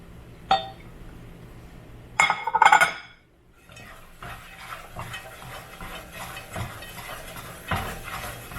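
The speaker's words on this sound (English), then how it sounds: "I'm going to throw in all my other ingredients and just whisk it all together." Sooji loz ingredients being whisked together in a pan, with close, sharp metallic clinks and a brief flurry of rattling strokes, then steadier scraping and tapping against the pan.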